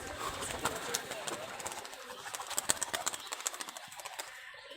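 A rolling pigeon claps and beats its wings in flight, a rapid series of sharp flutters that grows more regular toward the end, under a faint background murmur of voices.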